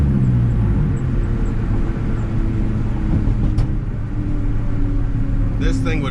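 Street car with a 500-horsepower turbocharged K24 engine pulling hard under load, a loud sustained rumbling roar throughout with a brief sharp spike midway and a short voice at the end.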